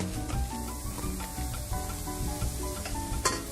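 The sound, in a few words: small diced onions sweating in a pan without oil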